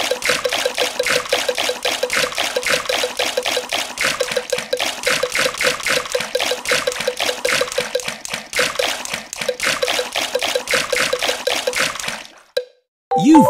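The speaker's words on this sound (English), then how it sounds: "Peppa and George love splashing in the pool." Water splashing in a Peppa Pig swimming race video game, a steady rapid run of plops and dribbling splashes that continues for about twelve seconds before cutting off, with game sounds at the end.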